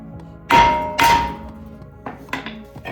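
Two sharp metallic hammer strikes about half a second apart, loud and close, followed by softer clinks and knocks of tools, during a brake installation on a 2022 Honda Civic Si.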